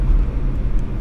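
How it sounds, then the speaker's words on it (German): A V8 car, big block, small block or Hemi, rumbles by on a city street in Munich, a loud, steady low engine drone through the whole second with no talk over it. "das ist ein Auto V8, Big Block, Small Block, was auch immer, Hemi"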